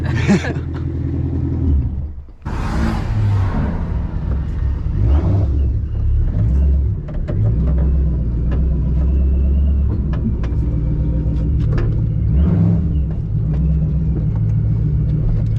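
Supercharged Ford Mustang Mach 1 engine heard from inside the car, a loud deep rumble that builds as it accelerates, with a short dip around a gear change early on, no talking.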